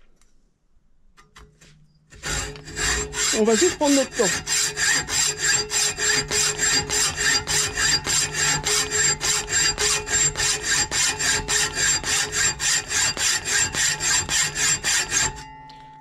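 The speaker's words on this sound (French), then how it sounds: "Je mets ma scie à environ 45 degrés, un peu moins, pour travailler uniquement sur un angle." A hand saw cuts through a flat metal bar held at about 45 degrees, close and loud, in a steady rhythm of roughly thirty even strokes after a brief quiet start, with a short spoken line near the beginning.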